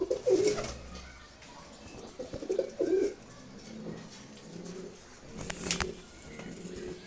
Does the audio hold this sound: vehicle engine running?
no